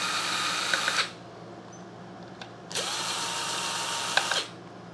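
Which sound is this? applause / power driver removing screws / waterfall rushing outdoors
power driver removing screws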